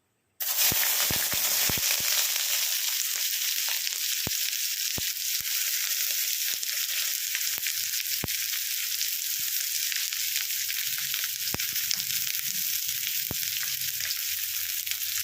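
Chopped onions frying in a pot for chicken pulao, with cardamom already in the oil. The sizzle is steady, loud and close and runs almost continuously after a sudden start, with occasional sharp pops.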